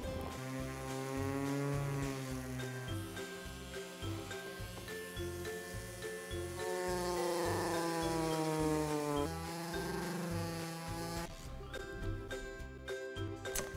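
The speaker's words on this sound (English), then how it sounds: "So with the mini grinder again, we're going to remove the material." A handheld mini grinder cuts grooves into glass for an LED frame, a steady high-pitched whine that shifts in pitch as pressure changes, loud and close, running continuously with no talking.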